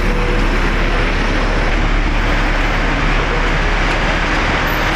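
A Hong Kong metro train roars in a loud, steady rush of broadband rumble and hiss, heard close up from on board with no voices.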